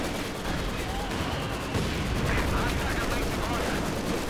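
Aircraft strafing gunfire from an IL-2 in Company of Heroes 2, a dense, continuous roar of rapid fire that swells slightly midway, with battle noise and speech mixed underneath.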